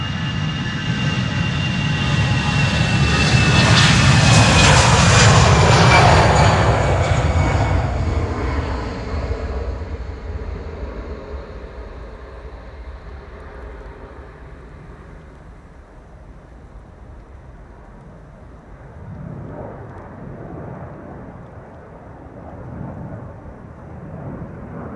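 An EasyJet airliner departs Schiphol's Polderbaan runway 36L bound for Bristol, its loud jet roar building and peaking early, then fading steadily into a distant rumble with no talk.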